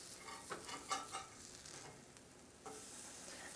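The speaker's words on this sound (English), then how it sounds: "let's get a spatula to flip over the bacon" Tempeh bacon coated in maple syrup sizzles and fries in a pan while a spatula scrapes and flips it, a soft continuous sizzle with a few brief scraping strokes, close by and without talk.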